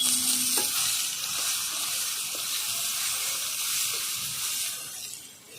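A whole bay leaf and whole cumin seeds frying in hot oil, giving a steady close hissing sizzle with faint stirring scrapes throughout, no voices.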